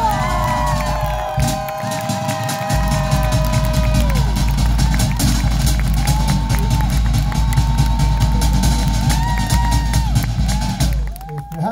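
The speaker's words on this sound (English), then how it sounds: "I've got a round of applause for the happy, slapping men of Samoa!" A luau audience cheers, whoops and claps after a performance by Samoan men, a steady loud crowd roar that runs through the whole stretch with some shouting voices mixed in.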